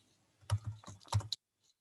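Keys clack on a computer keyboard as names are entered into an immigration background declaration form, a short close burst of several taps followed by a pause and one faint final click.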